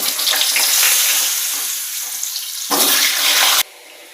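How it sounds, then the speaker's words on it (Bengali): Steady, loud sizzling of potatoes frying in hot oil, briefly swelling louder before cutting off near the end. "এদিকে আলু ভাজাটা চলছে"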